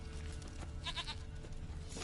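A goat bleats in The Witcher 3 video game: a short, wavering cry mid-clip over steady low game ambience.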